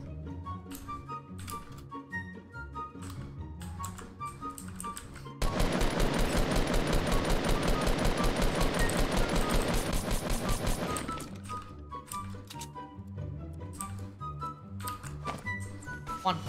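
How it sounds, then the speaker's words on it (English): Gunfire during a Fortnite Battle Royale match: a dense, loud burst of rapid, continuous shots lasting about six seconds, set between quieter stretches of game sounds. "As you guys can hear what they're doing, shotgunning."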